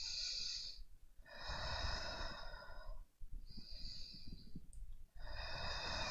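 Slow, deep breaths during a yoga hip stretch, several long airy inhales and exhales in a steady rhythm, close and fairly loud, with no talking.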